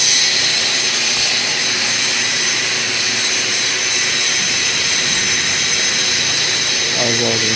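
Pulse welding at 165 amps with a mixed shielding gas of 98% argon and 2% oxygen, joining heat-resistant material in sections: a loud, steady, close-up hiss and buzz that runs unbroken throughout with no talking.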